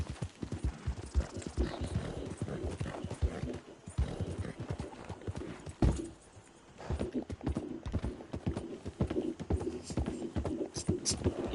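Clip-clop of a horse's hooves in Red Dead Redemption 2 runs at a steady quick rhythm, with a brief whinny, while someone talks over it almost throughout.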